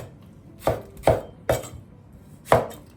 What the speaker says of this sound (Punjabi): ਤੁਸੀਂ 5-7 ਟਮਾਟਰ ਕੱਟ ਕੇ ਸਿੱਟੋ